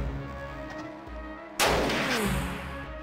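A grenade blast in the Jagged Alliance 2 video game hits as one sudden loud explosion that decays over a second, over a steady low game drone, with no talk.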